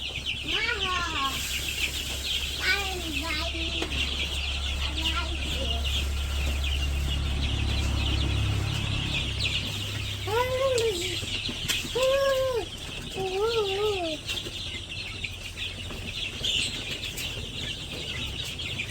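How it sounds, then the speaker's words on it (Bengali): Village chickens just given their feed cluck and call in short bursts against a constant low hum of background noise. "মুরগির খাবার দেওয়া শেষ"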